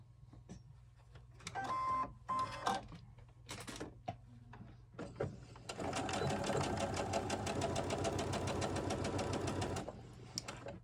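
A sewing machine stitches the lower hem of an 18-inch doll dress, with a few short bursts and fabric handling first, then a steady, close run of rapid stitching lasting several seconds before stopping.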